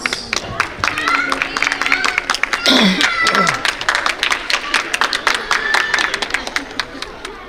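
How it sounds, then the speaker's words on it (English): Audience applause at a school annual day evening function, welcoming a franchisee partner to the stage, with steady clapping mixed with crowd chatter and a voice rising over it near the middle. "Let's welcome him a big round of applause."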